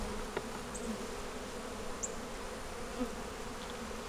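Honeybees at an open hive hum in a steady, low, continuous drone, with a few brief closer buzzes of individual bees passing by in an outdoor setting.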